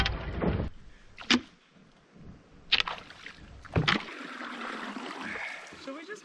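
Canoe on a river during a poling and fly-fishing trip in the mountains, with water sloshing against the hull and several sharp knocks of the pole or paddle on the boat, while people talk intermittently.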